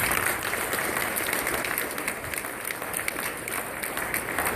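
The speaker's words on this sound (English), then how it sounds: "how about a big round of applause for Speaker of the House" Sustained audience applause at a casino grand opening in Lake Charles, greeting the Speaker of the House; steady, dense clapping from a sizable crowd, fairly even in loudness throughout with no speech over it.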